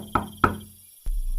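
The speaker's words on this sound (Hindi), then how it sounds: "मोटू पतलू के घर के बाहर आ जाता है और उनके घर का दरवाजा बजाने लगता है।" Knocking on a house door at night in the Motu Patlu cartoon: two sharp, close knocks a fraction of a second apart, followed by a low rumbling background.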